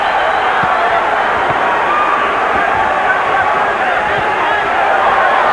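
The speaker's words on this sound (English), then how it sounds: "Pro Chavez crowd chanting already." Pro-Chavez boxing crowd chanting and cheering at a Floyd Mayweather Jr. versus Jesus Chavez fight, a dense, steady roar of many voices filling the arena, with a few faint thumps underneath.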